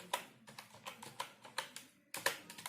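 Keys clatter on a computer keyboard as a MySQL select command is entered, a quiet, close run of irregular clicks in small clusters with a short pause before a final flurry.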